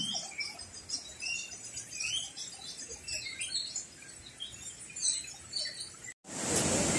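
Small birds chirp steadily in Hong Kong Park, with many scattered high tweets overlapping at a moderate distance, and a short burst of broadband noise near the end.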